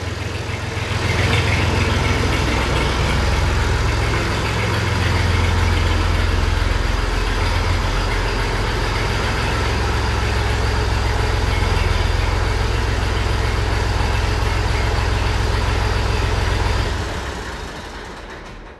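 A model 640 tractor engine idles steadily with a deep, low rumble that holds at an even loudness for about seventeen seconds, then stops near the end.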